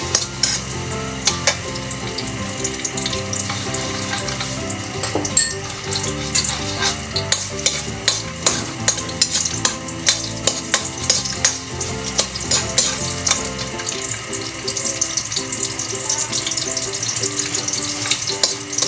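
Garlic sautéing in a hot pan, with a dense, continuous sizzle and repeated scraping stir strokes of a utensil against the pan, close and loud, with no voices.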